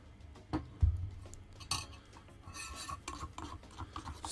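A spoon stirs foamy coffee made from Tasmanian beans in a cup, with soft scraping swirls and a few light clinks against the sides, quiet and close, no talking.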